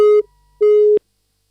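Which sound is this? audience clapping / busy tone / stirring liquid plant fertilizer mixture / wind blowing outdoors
busy tone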